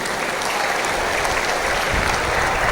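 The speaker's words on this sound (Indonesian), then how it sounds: "Tepuk tangan untuk NKRI." An audience gives sustained, loud clapping with dense, even applause filling the whole moment and no pause.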